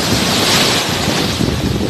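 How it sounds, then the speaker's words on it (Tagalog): Rough monsoon sea on a Surigao island coast surges in a steady, loud roar of breaking waves mixed with heavy wind buffeting the microphone, with no voices. "Ayan, galit na galit na yung dagat."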